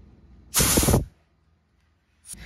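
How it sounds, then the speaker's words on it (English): Compressed air blasts through the holes of a plastic Briggs lawnmower carburetor: one loud half-second hiss, silence, then a second short burst starting. "hit it with our air compressor. Blow through all three of these holes."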